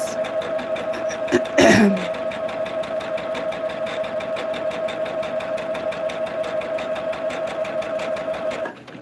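A sewing machine stitches a dahlia table topper, running at a steady whirring pace. Near the start a short cough or throat-clear cuts in, and then the stitching carries on evenly and close until it stops at the end.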